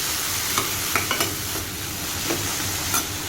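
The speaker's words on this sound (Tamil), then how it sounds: "ஜஸ்ட்டு கிளறி விட்டுட்டு உடனே நம்ம உதுத்து வச்ச பருப்பையும் நம்ம இதில் போட்டுடலாம்" Crumbled dal is stirred into cooked black-eyed peas in a pan, giving a steady low sizzle with a handful of brief spoon scrapes and taps spread across it, no voices.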